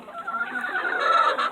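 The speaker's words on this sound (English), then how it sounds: "this is all my chickens before I let them out for the day" A flock of chickens clucks and murmurs continuously inside their coop in the morning before release, a close, busy chorus with no one speaking.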